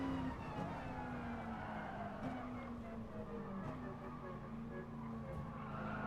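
Car tires skid and squeal in a Gran Turismo Sport race at a Nostalgic Car Festival event, a sliding screech running continuously over steady engine drone with other cars around.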